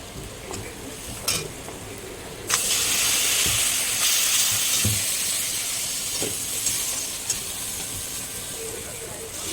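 Spices with turmeric sizzle and fry loudly in a pan for a taro-leaf dish, a steady hiss jumping up sharply partway through, with occasional stirring clinks and scrapes.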